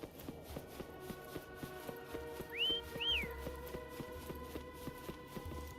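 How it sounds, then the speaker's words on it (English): In the Wuthering Waves video game, two short rising whistles call a horse, ringing out over a steady rhythmic trot of hooves and soft game music. "Try whistling."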